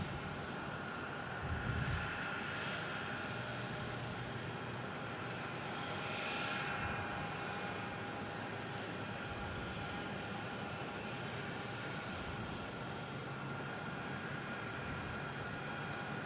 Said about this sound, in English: There's FedEx coming in from Memphis.